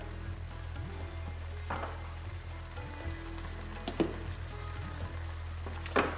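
Butter chicken sauce sizzling and bubbling in a pan, a soft steady crackle with occasional louder pops and spatters, heard close and without talk.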